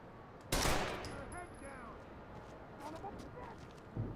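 A loud gunshot cracks once in the Rainbow Six Vegas shooter, followed by a quieter burst of shots, with game chatter and background noise in between.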